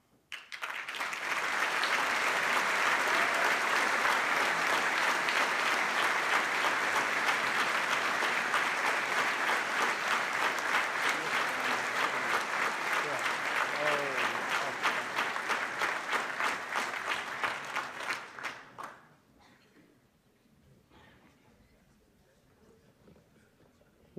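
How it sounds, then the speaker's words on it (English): Applause from a banquet crowd honouring a first-place university winner at an aviation competition awards event, loud, continuous clapping from many people for about eighteen seconds before cutting off to a quiet room with faint murmurs. "One more round of applause for him."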